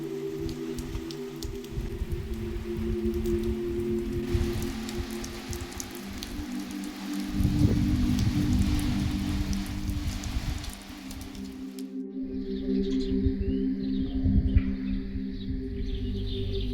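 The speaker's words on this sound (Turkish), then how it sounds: "Bak yine yağmur yağdı." Steady rain falls outdoors in a dense, hissing wash of drops, loud and continuous, with a short quieter break before the downpour returns.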